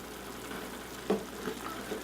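Stuffed pepper filling sizzling steadily in a hot pan, with a soft scrape of stirring partway through; a moderate, continuous frying hiss with no talk.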